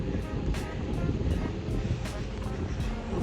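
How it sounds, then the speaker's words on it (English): Wind blows steadily at a Florida state park, a dense, constant roar buffeting the microphone. Faint periodic higher swishes pulse through it, and nobody speaks over it. "I'm trying to block the wind, but you might still get the wind."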